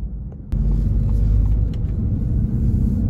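A car crosses the Third Avenue Bridge over the Harlem River from the Bronx into Manhattan, with a loud, continuous road rumble and engine drone inside the vehicle that starts after a short quieter moment and stays steady throughout.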